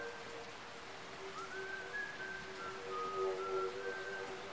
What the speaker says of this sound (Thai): ใครมาผิวปาก